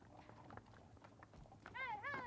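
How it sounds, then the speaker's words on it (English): Horses' hooves clip-clopping as cowgirls on horseback move cattle from collecting pens at a Montana cattle auction, faint irregular hoof falls with a short whinny-like call near the end. "The cattle are even moved from the collecting pens by cowgirls on horseback."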